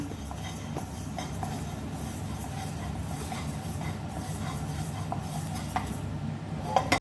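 Ingredients for millet dosai are lightly dry roasted in a pan, with a steady low rustle of stirring broken by occasional sharp clinks of a utensil against the pan.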